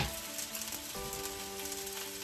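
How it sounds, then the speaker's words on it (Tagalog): Onion and garlic sauté in oil in a casserole, a soft continuous sizzle and crackle of frying, with no voices over it. "ikalat natin yung ating sibuyas at yung bawang dito sa ating kaserola"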